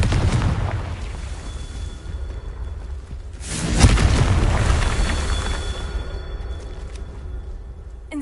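The Confringo explosive spell in Hogwarts Legacy lands with a loud booming blast halfway through, rising out of a steady rumbling roar and trailing off slowly, with no talk over it.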